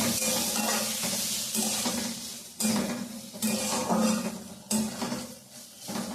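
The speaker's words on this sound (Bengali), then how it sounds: "আর সামান্য পরিমাণ ঘি দেব, খুবই সামান্য। সব কিছু দিয়ে আমি আর একটু ভেজে নেব।" Dal ingredients and a little ghee fry in a pan while being stirred, with steady sizzling and repeated scraping bursts of a utensil against the pan, close and fairly loud.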